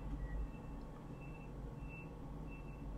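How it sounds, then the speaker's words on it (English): Faint, high electronic vehicle reversing beeps repeat at a steady interval over a constant low rumble of background noise. "I hear a strange beeping sound."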